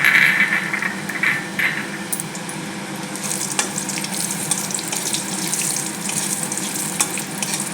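Cashew nuts frying in a mix of ghee and white oil, giving a steady crackling sizzle with light stirring scrapes throughout, close and moderately loud with no talking.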